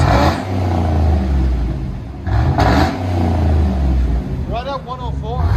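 A 2012 GMC Yukon XL Denali with a 6.2L V8 and aftermarket exhaust with resonator revs loudly up close, deep rumbling blips rising and falling in quick bursts, with brief voices near the end.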